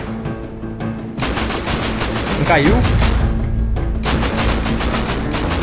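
Rapid automatic gunfire in the survival game Rust, bursts of loud close shots in quick succession with brief gaps, while players talk over the shooting.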